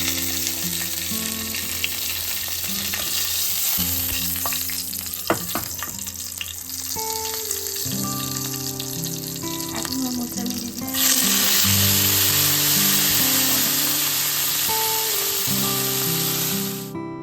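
Nigella seeds and green chilies frying in a hot pan, with a steady crackling sizzle, stirring clinks and a louder burst of hissing partway through, heard close over quiet background tones, no speech.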